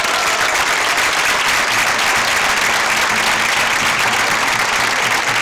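Loud, sustained applause from an audience at a tamborileros (traditional drummers) contest in Guadramiro, a dense crowd of clapping hands rolling on evenly for several seconds without a pause.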